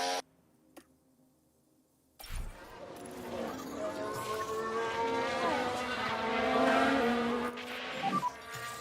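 A race car spinning on track in the F1 Manager video game at the Singapore Grand Prix. A high engine whine with rising and falling harmonic tones bursts in after near silence and holds loud and continuous.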